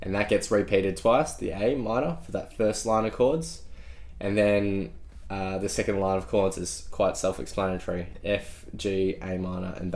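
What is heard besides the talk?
No distinct noise like a dog, phone or traffic.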